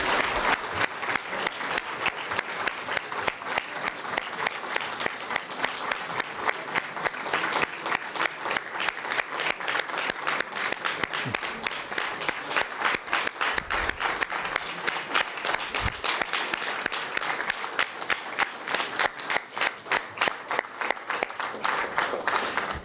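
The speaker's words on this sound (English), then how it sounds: "One more round of applause for NATO Secretary-General Jens Stoltenberg." A sustained round of applause for NATO Secretary-General Jens Stoltenberg, many hands clapping in steady even rhythm, loud and continuous with no talk.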